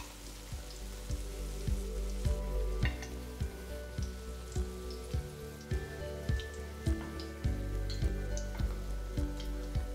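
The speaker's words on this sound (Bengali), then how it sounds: "আলুগুলো কিন্তু বেশ ভালো করেই ভাজা হচ্ছে" Potatoes fry in hot oil in a pan for a vegetarian aloo fulkopi dish, a continuous soft sizzle broken by regular rhythmic stirring scrapes and taps, close and fairly quiet.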